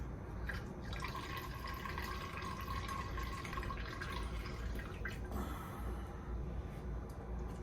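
Freshly pressed watermelon juice drips and trickles steadily from the squeezed pulp, a close, soft, continuous liquid patter with a few brief louder splashes.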